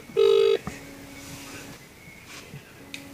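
A mobile phone sounds a short, loud dialing tone followed by fainter beeps and a low steady tone as a call is placed indoors, with little background noise.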